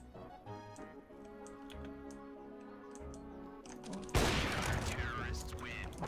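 Guns fire in a video game, with a rapid rattling burst of shots coming in loudly over background game music partway through, preceded by lighter clicking.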